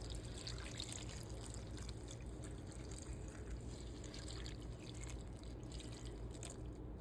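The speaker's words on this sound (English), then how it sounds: "We're gonna pour in 4 cups of cold water right over top of this." Cold water pours over mint leaves in a pot, a steady close trickle and splash that runs unbroken for several seconds, faint and alone.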